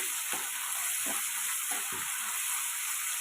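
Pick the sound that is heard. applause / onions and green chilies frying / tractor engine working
onions and green chilies frying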